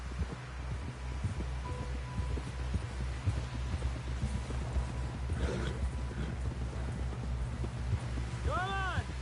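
A horse gallops in Red Dead Redemption 2, rapid rhythmic hoofbeats thudding steadily under a low hum, with people talking over the ride.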